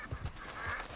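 Ducks quacking in the Red Dead Redemption 2 game world, a few short nasal calls close together, low in level over steady ambient background, with no talking.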